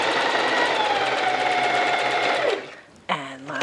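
Sewing machine stitching bias binding onto a fabric edge, a loud steady whirring run that winds down and stops, then a short burst of stitching after a brief pause, close up.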